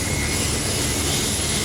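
Engine roar of a US Air Force hurricane hunter aircraft at an air force base in Biloxi, Mississippi, a steady broadband rumble and whine filling the moment, loud and close, with no voices over it.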